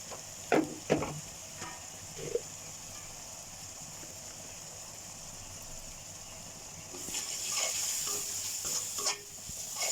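Ginger, garlic and turmeric sizzle in a hot pan with a steady frying hiss that swells louder later, broken by a few stirring clinks and scrapes.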